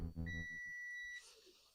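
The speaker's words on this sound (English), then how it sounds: "Can you guys hear that beeping at all?" A steady high-pitched electronic tone holds for about a second after a brief burst of voice, then cuts off, leaving quiet room noise.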